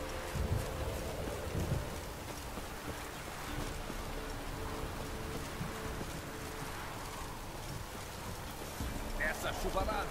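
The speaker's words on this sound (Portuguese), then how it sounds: "Essa chuvarada é uma desgraça" Heavy rain in The Witcher 3: Wild Hunt hisses throughout with a low rumbling wash underneath, loud and constant, with a few brief bursts of talk in the background.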